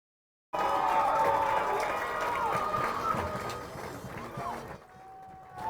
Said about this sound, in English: Keep an eye on the crowd noise back behind me and let me know if I need to adjust.